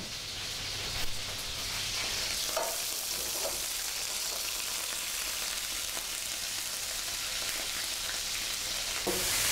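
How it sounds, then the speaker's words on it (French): Lobster pieces fry in olive oil with a soft, continuous sizzle and crackle, a quiet, even hiss with a few brief louder pops. "on les fait revenir à l'huile d'olive d'abord, on les fait ressonner un petit peu pour qu'ils perdent un peu leur sang"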